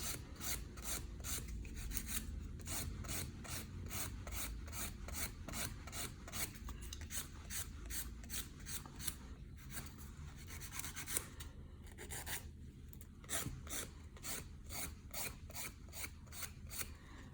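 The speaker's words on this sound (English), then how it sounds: "with the rough side of the file down into the sides like this" Steady rhythmic rasping of the rough side of a hand nail file on fingernails, quick back-and-forth strokes repeated evenly and close up, with no voices.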